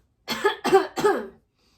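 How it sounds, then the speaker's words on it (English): Three quick, close coughs in a row, a throat-clearing burst of roughly a second, followed by silence. "coughed to clear the crumbs of toast from his throat"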